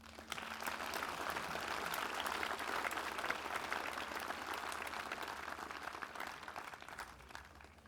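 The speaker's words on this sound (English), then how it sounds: "One more time, a big round of applause." Audience applause at an outdoor community band concert by a lake, a steady wash of clapping from a crowd heard at a distance, fairly faint and sustained throughout.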